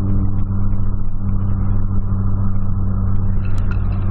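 A Volkswagen Polo cruises on a highway at about 100 km/h, giving a loud, steady engine drone and road hum that holds without a break, with no talking.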